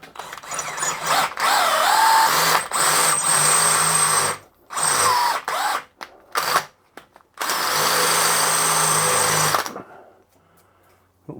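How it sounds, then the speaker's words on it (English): A new, sharp cobalt drill bit held freehand, drilling out a broken turbo stud. Loud, whining bursts of drilling are separated by short pauses before the motor stops and the clip falls quiet. "A cobalt drill, a nice new sharp one."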